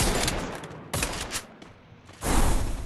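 Gunfire in the mobile battle-royale game Free Fire, rapid bursts of shots in two clusters with a brief lull between, loud and close, with no voices.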